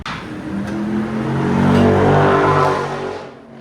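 A 2010 Toyota Tacoma pickup with a 4.0L V6 and a Borla ProXS exhaust revs up close and loud, its deep droning note swelling, holding steady, then falling away at the end.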